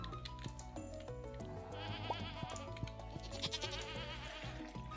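Sheep bleat in the farming video game Stardew Valley, several short nasal bleats over a steady background of in-game music and ambient farm sounds.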